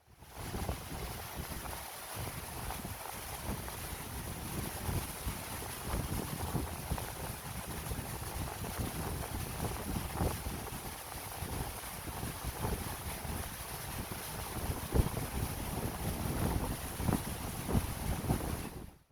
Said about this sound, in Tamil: அந்த தண்ணி சத்தம் கேட்கறதுக்கே அவ்வளவு அருமையா இருந்தது